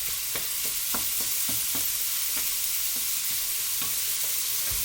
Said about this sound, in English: My mince, a bit of a stir.